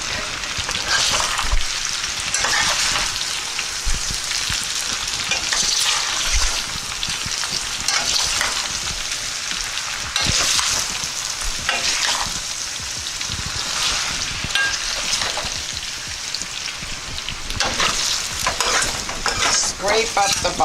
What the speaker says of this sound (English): Scrape up the bottom, scrape it up.